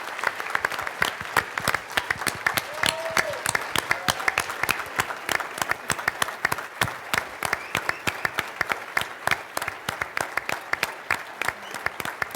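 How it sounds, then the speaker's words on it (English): A leadership summit audience applauding a team of scouters, sustained crowd clapping with dense, sharp individual claps that continue evenly for the whole stretch, fairly loud and close. "can we have a round of applause for this team of tremendous scouters?"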